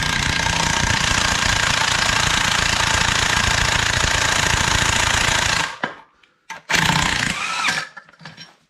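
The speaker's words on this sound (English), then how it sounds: "Just go with a nut gun to begin with." A nut gun loudly hammers away at the clutch nut on a classic Mini engine, a dense continuous rattle for several seconds before cutting off, followed by a few short bursts and clanks.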